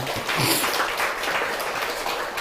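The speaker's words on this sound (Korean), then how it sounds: "우리 하나님 앞에 영광의 박수 한번 돌리겠습니다" A church congregation during a Sunday sermon breaks into applause, a sustained wash of clapping from many hands, fairly even and moderately loud throughout.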